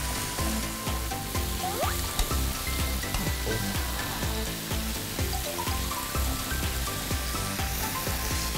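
A steady sizzle of onions frying in a hot pan, continuous and close, with occasional scraping clinks.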